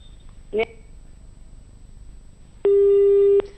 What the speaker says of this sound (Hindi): उनसे हमारी फोन लाइन जो है वो डिस्कनेक्ट हो गई